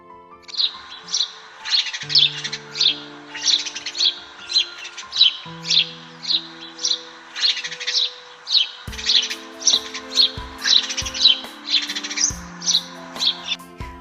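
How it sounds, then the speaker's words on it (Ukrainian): A small sparrow chirps in a rapid, steady series of bright tweets over about fourteen seconds, loud and close, with soft tonal music underneath. "Це маленький горобець."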